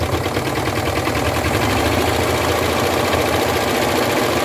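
Serger stitching across fabric for a stained-glass-style quilt piece, a steady, loud mechanical chatter that runs without a break, its needle and knife motion close to the listener.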